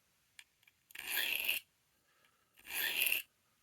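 A knife blade is drawn by hand across a Lansky sharpening stone in two distinct strokes, each a gritty, rasping scrape lasting about half a second, separated by quiet, close and fairly soft.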